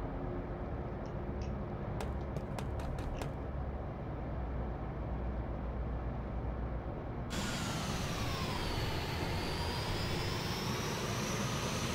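Aircraft engine drone in the Carrier Command 2 video game, a steady loud roar with a few sharp clicks early on, then a brighter sweeping jet whine in the second half.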